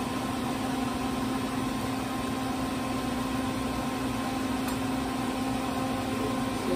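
A kitchen exhaust fan runs over the stove while taro cooks in a pork-hock stew, giving a steady, even hum that stays constant throughout with no talking.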